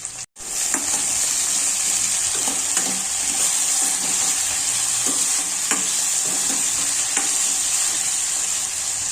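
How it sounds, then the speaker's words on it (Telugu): Onions and potatoes frying in oil in a pan with mustard seeds and cumin, giving a steady bright sizzle with repeated scraping stirs and light taps of a spatula, close up and with no talk. "ఆనియన్స్ అండ్ పొటాటోస్ ఫ్రై అయిపోయాయి."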